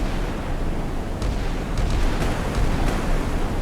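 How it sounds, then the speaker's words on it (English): Naval guns firing a salvo bombardment in a video game, a dense, continuous low rumble of explosions with several sharp booms and bursts layered on top throughout, loud and close with no talk. "But the bombardment begins."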